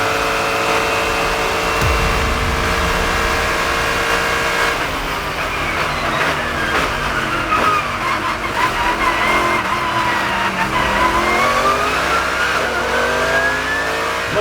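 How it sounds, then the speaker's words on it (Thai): Race cars on a wet track where some run wet tyres and others slicks, including an Optimum Motorsport McLaren; several cars roar past with rising and falling engine notes, near and loud, with no talk. "There goes the Optimum Motorsport McLaren of Mikey Porter"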